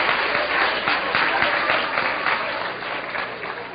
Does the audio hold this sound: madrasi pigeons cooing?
no